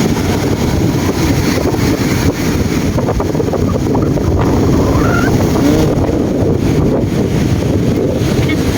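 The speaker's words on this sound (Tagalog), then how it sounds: "Grabe, lakas ng hangin ka rin umaga." Strong morning wind near a seaside hut buffets the microphone nonstop, a loud, steady roar of rushing air with no pauses.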